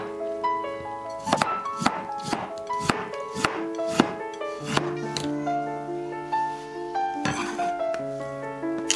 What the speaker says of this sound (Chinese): 将去皮的萝卜切成片。